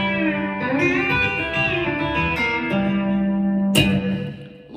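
An electric guitar with a B-bender plays a country lick off a 7th pattern in G, with bent notes sliding in pitch over a sustained tone. It is clear and loud and plays alone without talk.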